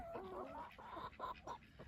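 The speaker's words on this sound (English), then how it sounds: "My roosters have learnt how to crow" Several young roosters crowing and clucking among a group of chickens, short choppy calls repeating close by, with no talking.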